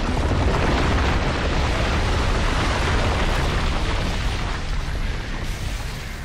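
A grenade blast in the video game Judgment, played on Hardcore, rolls out as a loud, broad rumbling boom that slowly fades over several seconds with no voices over it.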